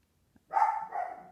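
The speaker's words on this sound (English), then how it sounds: "oh, sorry about my dog." Pet dog gives one close, fairly loud bark that trails into a drawn-out yelp, heard indoors against quiet.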